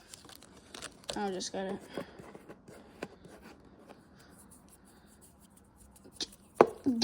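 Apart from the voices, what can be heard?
dirt bike graphics kit being ripped off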